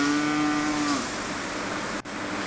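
A water buffalo moos once in a long, steady call that lasts about a second, close and fairly loud, followed by quiet outdoor background.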